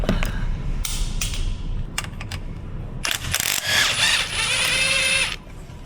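A 13mm socket ratchet working a bolt loose on a VW Atlas AC compressor, sharp clicks and metallic bursts followed by a brief high whine, close and loud with no talking.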